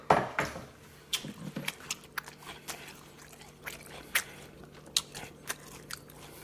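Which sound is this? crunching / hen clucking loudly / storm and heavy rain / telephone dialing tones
crunching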